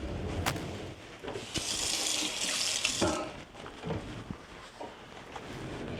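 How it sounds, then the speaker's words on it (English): Water runs from a kitchen faucet over dried chilies being rinsed, a steady close splashing stream with a louder gush partway through and a few knocks in the sink. "Let me rinse this off."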